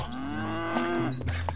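A cartoon cow gives one drawn-out, close moo with a wavering tone, clear and alone, ending in a brief extra sound.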